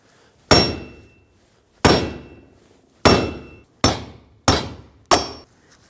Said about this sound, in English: Get a big hammer and punch it out till it pops out the other side.